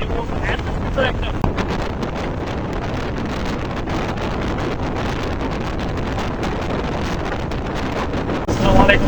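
Wind roars steadily across the Padma Bridge, a dense, buffeting rush against the microphone that holds for about nine seconds, swelling slightly at the end.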